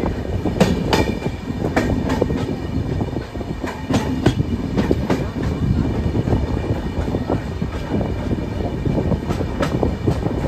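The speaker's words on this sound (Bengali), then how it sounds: "আমার ট্রেন এসছে এখন ভদ্রক স্টেশনে।" The Puri to Kolkata Dhauli Express, a crowded passenger train, runs steadily with a loud continuous roar and rhythmic clickety-clack of wheels on rail joints, heard from inside a carriage.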